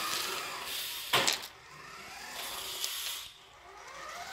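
Brief screeching skid of slick tires on a toy RC car, a Nikko Pontiac Firebird Trans Am with a lexan Camaro body, as its wheels lock up on a very slick surface, a sharp burst standing out from steady background hiss.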